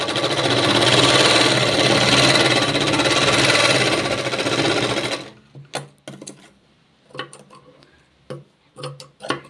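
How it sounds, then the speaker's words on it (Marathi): Sewing machine running steadily as it stitches a double seam onto a cross strip of a katori blouse, a loud continuous whirring that stops abruptly, followed by scattered clicks and handling noises. "तर यावर एक डबल टीप टाकायची आहे।"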